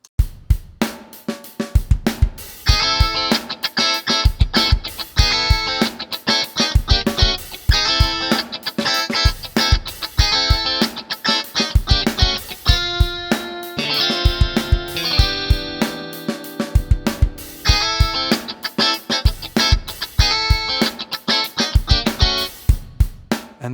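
A guitar VST plugin plays along with a drum track, dense rhythmic chords and strummed notes over steady beats, loud and continuous throughout with no talking.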